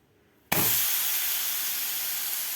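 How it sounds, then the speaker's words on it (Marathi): Cauliflower thalipeeth hits a hot griddle with a sudden loud sizzle that settles into a steady, close hiss of frying. "लगेचच तव्यावर घालून घेऊया"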